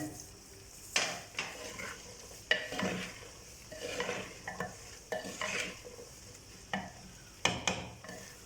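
Medium whole green chillies and okra (bhindi) stirred in a frying pan, with soft sizzling under repeated scraping strokes of a spoon against the pan, close and steady with no talk.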